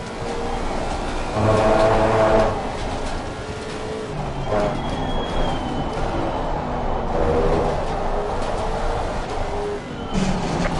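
A GT race car engine in Assetto Corsa Competizione at Silverstone revs and drops through gears, rising and falling whine with brief blips between shifts, loud and continuous without talk.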